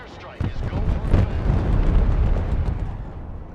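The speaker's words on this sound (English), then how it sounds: "Airstrike is go for effect." Airstrike explosions in the Broken Arrow war game: a sudden heavy blast opens a rolling, rumbling barrage of overlapping detonations that stays loud and sustained for several seconds.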